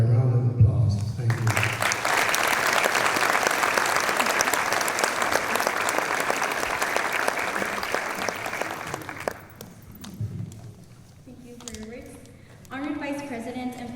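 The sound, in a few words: audience applause at an honor society induction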